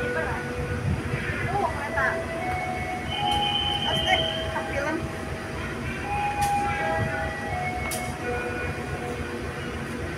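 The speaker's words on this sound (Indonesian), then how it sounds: "komuter lain Garut nomor KA 349 dari Garut Purwakarta akan masuk di jalur 5 stasiun Cicalengka" A Garut–Purwakarta commuter train pulling into platform 5 at Cicalengka station, giving a steady rolling rumble with squealing wheels and brief high screeches, while people talk over the noise nearby.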